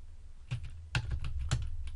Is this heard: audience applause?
no